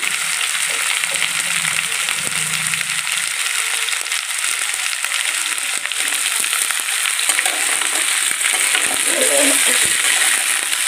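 Pointed gourd pieces fry in a pan for a Bengali bottle gourd greens dish, giving a loud, continuous oil sizzle with occasional scraping and stirring noises.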